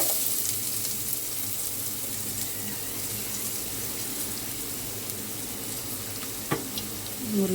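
Onions dropped into hot oil already tempered with mustard seeds, fenugreek, curry leaves and dried red chilli, sizzling steadily and close up, a broad even crackle with a brief stir or clatter near the end, no talking.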